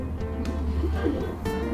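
Pigeons cooing close by in a loft, low throaty rolling calls repeating in a short burst with a soft indoor hum underneath.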